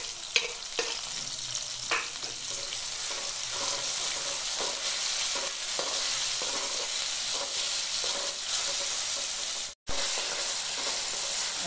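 Chopped tomatoes frying in a hot pan, a steady loud sizzle with stirring scrapes and occasional spatula knocks, one brief cut near the end.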